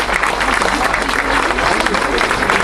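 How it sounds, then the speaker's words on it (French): A crowd applauds warmly at an anniversary gathering in a reception hall, a steady, close wash of clapping that holds at an even level throughout, with a voice faintly mixed beneath. "je vous demande de l'applaudir chaleureusement"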